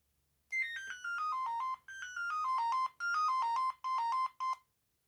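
An Amstrad S288 mobile phone plays its shutdown tone: a bright electronic melody of falling beeps, repeated in several short phrases with brief pauses between them, clear and alone.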